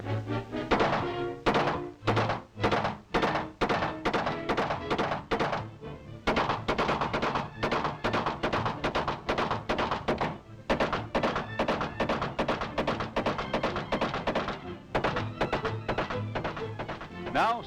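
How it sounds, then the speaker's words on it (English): Rifle fire at an indoor range at FBI headquarters in Washington, a rapid series of sharp cracks with brief gaps, recorded in an old 1930s film soundtrack, with a voice speaking over it. "Intermittent firing."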